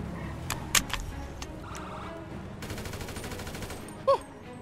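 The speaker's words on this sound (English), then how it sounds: "I tried shooting him" Gunfire aimed at a police helicopter in GTA 5 during a bank robbery roleplay: a few sharp shots early on, then a rapid rattling burst of automatic fire, with a loud crack near the end.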